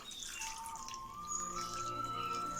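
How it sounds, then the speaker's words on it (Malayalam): Water pours into a pot with a rising, ringing tone as the vessel fills, quiet and close. "അപ്പം നമുക്കിതിലേക്ക് വെള്ളം ഒഴിച്ചു കൊടുക്കാം"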